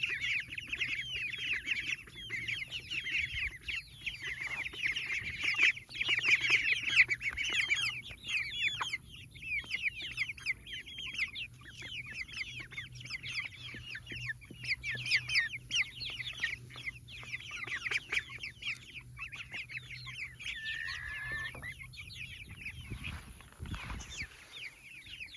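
A flock of chickens on a farm clucks and chatters continuously, many birds at once, with a constant busy murmur of overlapping calls close by and no talk.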